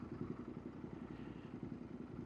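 A Royal Enfield cafe racer motorcycle engine runs at a steady, even pulse under light clatter, heard from the rider's position at moderate level with no speech.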